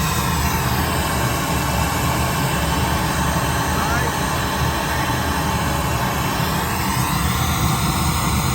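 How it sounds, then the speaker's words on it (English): A 2023 Harley-Davidson CVO motorcycle engine idling, heard as a loud, steady low rumble with constant mechanical drone throughout, the bike running in place. "We have the bike running now."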